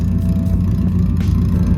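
A modified Tamiya Mini 4WD motor runs loudly and continuously up close, a buzzing, whirring drone with a steady low rumble and no talking.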